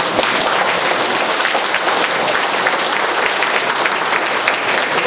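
Audience applause fills a lecture hall in Busan, steady and dense clapping from many hands, loud and close, continuing without a break for about five seconds.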